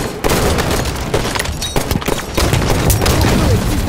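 Grenade blast in a Halo 5 firefight, sharp booms and cracks mixed with bursts of rapid gunfire, loud and close, with a few faint voices.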